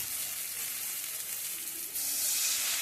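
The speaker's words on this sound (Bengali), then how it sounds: "মশলাটা ভালো করে একটু ভাজবো" Spice paste for a katla fish kalia frying in a pan, a loud, even hissing sizzle close up that swells a little stronger near the end.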